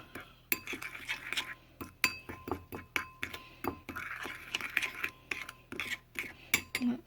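Vinegar salad dressing is stirred in a glass, with a spoon clinking repeatedly and irregularly against the sides, bright and close, along with soft scraping between the strikes.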